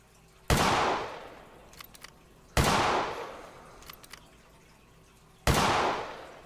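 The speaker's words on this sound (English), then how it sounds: "I'm going to have to take a shot on the run here" Three loud, sharp rifle shots ring out a couple of seconds apart while hunting roe deer in theHunter Classic, each crack followed by a fading echoing tail.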